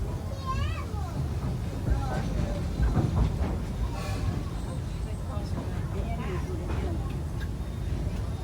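Safari train ride at Busch Gardens Tampa Bay, with a steady rumble of the moving train cars under continuous background noise, while children and other riders chatter nearby throughout.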